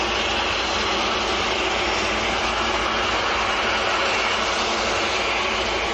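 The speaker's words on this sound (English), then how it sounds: "A330 coming down our favourite taxiway." An Airbus A330 widebody jet taxiing along a taxiway at Manchester airport, giving a continuous, even engine rumble and hiss held at a constant loud level throughout.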